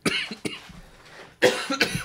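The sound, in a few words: coughing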